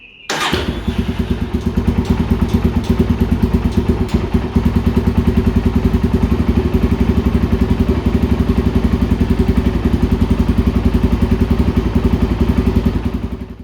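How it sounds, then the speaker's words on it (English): A Polaris Predator 500 quad bike engine idles steadily and loudly up close while warming up, with a fast, even chugging rhythm and occasional clatter throughout. "Just make the engine nice and warm"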